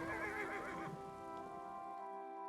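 A horse in The Elder Scrolls Online gives a single loud whinny with a wavering, descending tone, then quieter sustained tones continue behind it.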